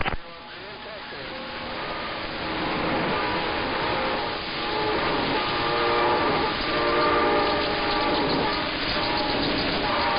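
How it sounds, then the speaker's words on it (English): A train passing with rolling wheel noise and sustained horn tones, heard through narrowband radio-like audio, fairly close and steady, with voices talking over it. "What time's this train get to St. Louis?"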